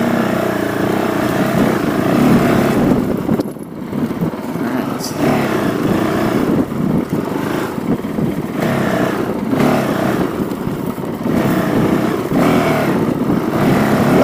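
A Honda CRF450L dual-sport motorcycle being ridden, its engine droning loudly and continuously with wind rush and small shifts in pitch throughout, heard from the rider's position with no talk.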